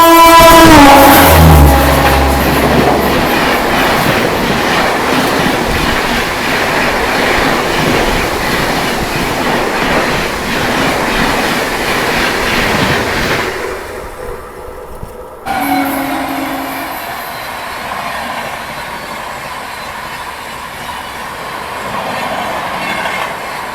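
Rajdhani express trains rush past on the adjacent track, loud and close, with a steady roar and rapid clickety-clack of wheels that drops away sharply and leaves a quieter rolling rumble afterward.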